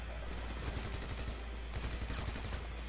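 Dense, continuous gunfire in a GTA 5 Online team deathmatch, rapid overlapping shots rattling without pause, loud and close, no voices.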